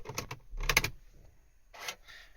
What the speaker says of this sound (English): there you hear the steering lock disengages